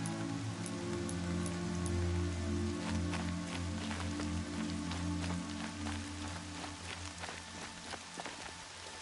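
Steady rainfall in the action game Horizon Zero Dawn, drops pattering on surfaces with a constant hiss, plus a low droning hum and scattered sharper taps toward the end.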